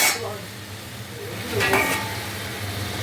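Mutton frying in a pan over a high gas flame is stirred with a utensil, giving a steady sizzle with soft scraping and a louder scrape of the pan midway.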